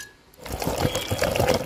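Tomato gravy is ground in a mechanical grinder that starts abruptly and whirs with a rough, rattling churn, close and steady for its brief run.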